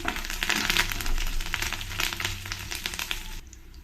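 Garlic and curry leaves sizzle and crackle steadily in a hot pan, a close, continuous frying hiss with small pops that drops away near the end.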